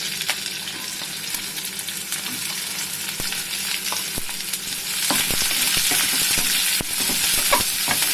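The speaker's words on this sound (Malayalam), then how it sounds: "ഇത് നന്നായിട്ടൊന്ന് ഇളക്കി കൊടുക്കാം. അതൊരു മൂപ്പാവുമ്പോൾ നമ്മുടെ ഉള്ളി ഇടണം." Radish curry sizzles and fries steadily in a pan while it is stirred, with a continuous loud hiss and scattered crackles and scraping, and the frying grows a little louder partway through.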